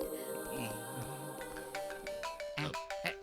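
A mobile phone rings with an incoming call, a bright tonal ringtone melody that plays alone, close and clear, with no talk over it.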